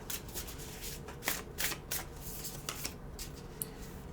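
Oracle cards being shuffled and drawn from a deck during a reading, a soft continuous papery riffle and rub with a few sharper card flicks, close and fairly quiet.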